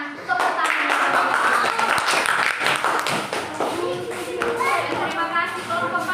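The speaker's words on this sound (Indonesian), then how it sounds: "berikan tepuk tangan." A classroom of children claps for a student group, brisk uneven applause lasting several seconds, with children's chatter and a teacher's voice mixed in.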